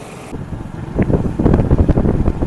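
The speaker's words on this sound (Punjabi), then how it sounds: "ਹਵਾ ਬਹੁਤ ਠੰਡੀ ਠੰਡੀ ਚੱਲ ਰਹੀ ਆ" Cold wind rushes past while riding a motorcycle on the road to Mata Naina Devi temple, a loud, steady roar with rising gusts and buffeting, no voices.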